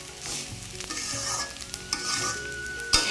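Rice and potatoes fry in a pan for vegetarian khichuri, a steady close sizzle with repeated spatula stirs and scrapes and a sharp clink near the end, no voices.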